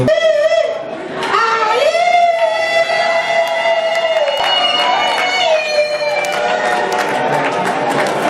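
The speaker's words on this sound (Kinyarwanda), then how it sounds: "izo ni impundu zo kugushimira umukwe mwiza ugabiye uyu munsi" Wedding reception guests ululate for the groom: loud, sustained high trilling calls from several voices that rise and waver together over a crowd murmur, continuing without a break.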